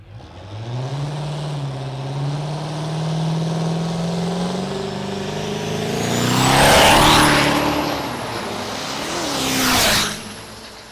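Diesel drag race trucks at the Texas Diesel Nationals in Lufkin, Texas, tuned by 3K Tuning, launch down the strip with a loud, rising engine drone that climbs in pitch, then two roaring pass-bys swell close and fade.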